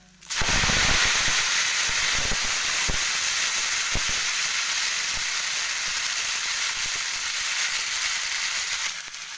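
Coriander leaves fry loudly in hot oil for pickle, a dense, continuous close-up sizzle with occasional sharp pops that holds steady from start to finish.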